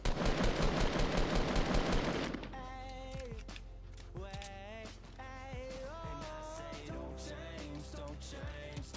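Rapid automatic gunfire from a SCAR rifle in the video game Fortnite rattles in a dense burst for about two seconds, then gives way to quieter game sounds and tones.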